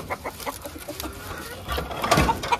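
Kadaknath chickens cluck and squawk in a busy, uneven flurry, fairly close, with rustling and scratching noises beneath and a louder burst near the end.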